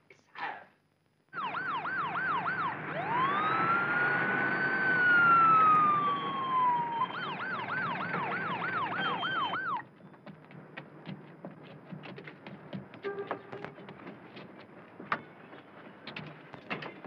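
An ambulance siren wails loudly for several seconds with a rising and falling tone, then cuts off, leaving quieter background noise and faint clatter.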